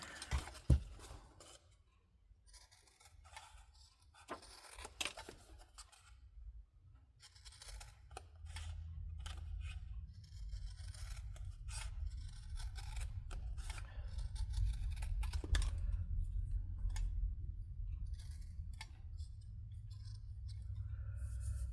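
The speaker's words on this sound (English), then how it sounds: "I'll use my cloth scissors on this" Scissors snip through fabric in a series of sharp, close clicks, with a low steady hum underneath.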